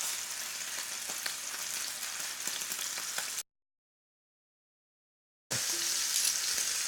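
A New York strip steak sizzles loudly in a cast-iron skillet, a steady dense crackle of frying fat that cuts out briefly and then resumes at full strength.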